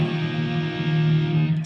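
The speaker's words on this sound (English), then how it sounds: "I need a little more level and a little less distortion." An electric guitar with a single connected pickup and no toggle switch sustains a heavily distorted chord that rings steadily and loudly at close range, with no talking over it.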